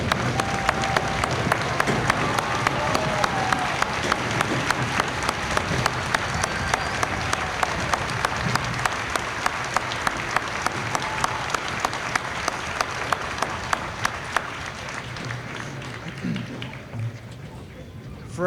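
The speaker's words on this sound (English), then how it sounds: "a well-deserved round of applause." Sustained applause from an audience honoring veterans at an Army infantry graduation ceremony at Fort Jackson, steady dense clapping with crowd murmur that gradually thins and fades toward the end.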